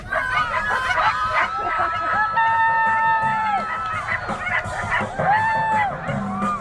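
Crowd cheering and whooping outdoors at a winter snow festival as a junior handler runs a single sled dog in a sprint, a steady lively roar with shouts and an announcer's voice over it.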